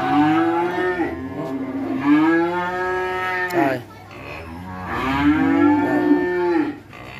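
Cattle on a Vietnamese cattle farm let out two long, loud, nearby moos, separated by a brief pause, with faint background noise.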